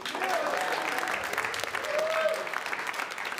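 A comedy club audience at Gotham Comedy Live claps in a dense, sustained burst of applause that swells slightly, then holds for a few seconds.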